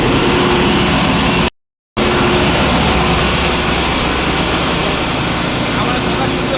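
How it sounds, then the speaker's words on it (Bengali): Several large engines roar loudly inside a ship's engine room, a dense, steady mechanical drone with a constant whine on top, cut by a brief dropout to silence before the roar resumes at full level. "এটা পুরো ইঞ্জিন রুম, কত বড় হয় ইঞ্জিন রুমটা দেখো। এগুলো সব ইঞ্জিন"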